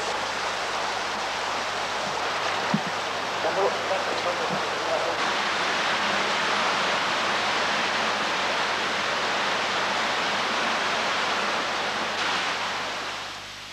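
River water rushing into a jungle cave, a dense continuous roar like a waterfall or stream, loud and close, with a few faint clicks and knocks but no clear talk.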